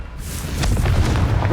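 A Confringo fire spell explodes in Hogwarts Legacy as one deep, rumbling boom that swells and rolls on for over a second, loud and close.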